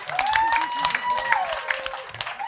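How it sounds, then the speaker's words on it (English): A studio audience claps and cheers for two guests, Melinda and Ray, on a recovery-themed TV show. The steady, fairly loud applause fills the whole moment, and a voice speaks over it. "Let's have a nice round of applause for Melinda and Ray"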